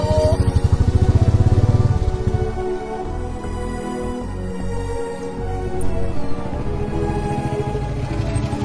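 A motorcycle engine runs close by with a steady throbbing pulse, loudest at the start, then settles into a lower continuous rumble that lasts throughout.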